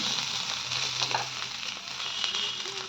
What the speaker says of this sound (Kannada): ಇದನ್ನು ಕಡಿಮೆ ಗ್ಯಾಸ್ ಇಟ್ಕೊಂಡು ಒಂದು ಐದು ನಿಮಿಷ ತನಕ ಹುರ್ಕೋಬೇಕು